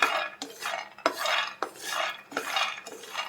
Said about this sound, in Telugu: ఇలా ఒక కప్పు పల్లీలు తీసుకొని ఫ్రై చేసుకోవాలి.